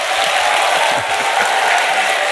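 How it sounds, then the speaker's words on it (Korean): Steady, full clapping fills the hall as the audience at a Buddhist dharma service at Bulgwangsa temple applauds the lecturing monk, holding an even level from start to finish. "박수 소리가 좀 무성의한 것 같은데"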